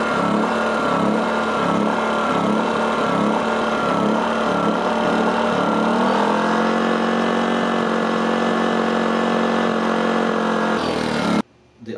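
Generac 2200i inverter generator engine runs steadily and loud, its speed wavering and hunting in a rhythmic surge during the first half before settling into a higher steady drone, then cutting off abruptly near the end.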